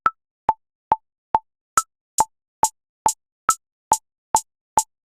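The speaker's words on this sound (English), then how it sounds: "I'm going to play the hi-hat from pad 4 on every quarter note" Metronome clicks and hi-hat hits from a drum pad in BandLab play on steady quarter notes, a dozen evenly spaced sharp ticks, with the brighter hi-hat strikes joining after the first few beats.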